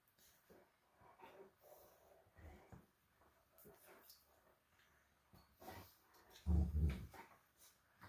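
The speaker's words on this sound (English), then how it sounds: "my dogs are playing in the background" Dogs playing indoors in the background, making faint snorts, huffs and panting with one louder growl-like burst near the end, all fairly distant.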